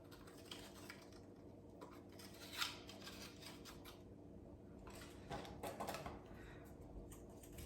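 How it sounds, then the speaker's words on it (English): Scissors snip string on a paper Christmas decoration: a couple of faint, brief cutting clicks over quiet room noise, with no talk. "I'll tie that together and then I'll trim it."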